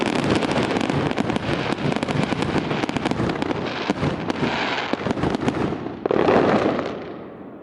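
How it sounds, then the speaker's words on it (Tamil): A fireworks display sounds as a dense, continuous barrage of crackling bursts and pops, loud and close, with wind rushing across the microphone before it fades at the end. "இந்த வானவெடி வெடித்த அந்த மைய புள்ளியில் இருந்து தீக்கீற்றுகள் எல்லா திசைகளிலும் வீசப்படுகிறதானே."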